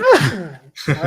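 A single sharp human sneeze indoors, loud and close, followed after a brief pause by a short breathy vocal sound.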